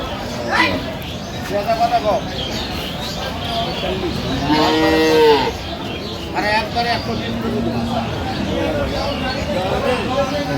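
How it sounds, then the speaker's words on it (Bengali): Dairy cows and calves mooing at a busy rural cattle market in Aftabganj, Dinajpur, with several loud calls rising over a steady crowd din and people talking nearby. "গাভী বাছুর আমরা দেখছিলাম এখানে।"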